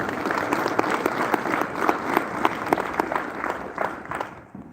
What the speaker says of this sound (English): Please join me in giving this panel a big round of applause for all they do and continue to do.